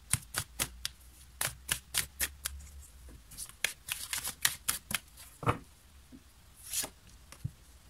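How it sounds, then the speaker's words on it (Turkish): Tarot-style cards shuffled and flipped onto a surface: a quick run of crisp, close riffling snaps and slaps, then scattered softer card placements, with no voices. "Şuraya bir kart daha açalım."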